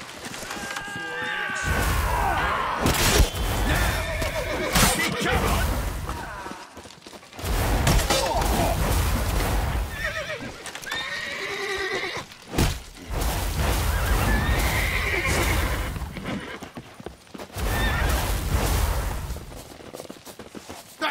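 A horse whinnies and hooves clatter during a fast chase in The Witcher 3, in loud bursts separated by short gaps, mixed with crashes, gunfire-like impacts and shouted voices.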